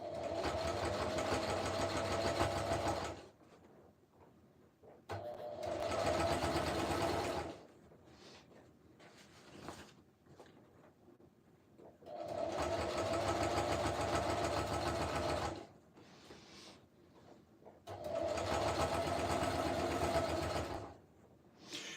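A sewing machine stitches a camo helmet cover in four sustained runs of rapid, even whirring, each a few seconds long, with quiet pauses between them.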